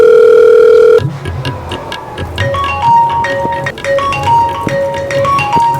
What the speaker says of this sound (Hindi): मोर सारल फोन लगाता हूँ